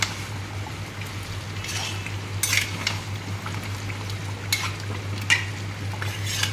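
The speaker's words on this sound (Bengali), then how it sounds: "এইভাবে ভালো করে কষাতে হবে।" Chicken curry masala stirred and fried in a pan, with a steady low sizzle and scattered scraping strokes of a spoon against the metal, fairly close and with no talking.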